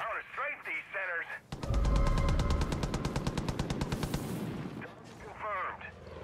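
Sustained rapid machine-gun strafing fire from a video game hammers loudly for a few seconds in dense even bursts, with radio-style voice chatter just before and after.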